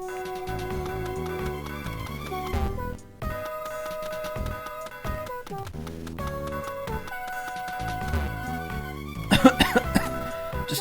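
In the video game Mother 3, a character's coughing sound effect plays as a few short bursts near the end, under continuous tinkly background game music.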